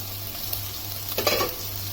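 Broad beans poriyal being stirred in a pan, a continuous frying sizzle with a brief louder scrape of the ladle midway, no voices.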